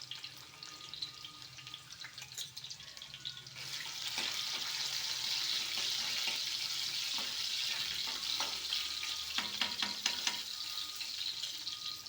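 Finely chopped garlic lands in a pan and the quiet background swells into a steady frying sizzle, with a few stirring scrapes and pops along the way.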